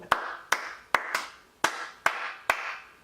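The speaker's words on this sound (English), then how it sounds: "Give him a clap right here" Hand claps struck one at a time in a slow, steady beat, six or so sharp near claps about half a second apart, each with a short ringing tail, with no voices.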